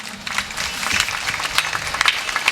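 An audience at a memorial gathering claps together in a burst of steady, fairly loud applause that carries on throughout, with faint crowd murmur beneath.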